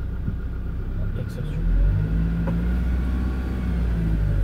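A car pulls away from a stop in second gear on a hill during a driving test lesson, its engine a low steady rumble that swells briefly as it moves off, with people talking over it.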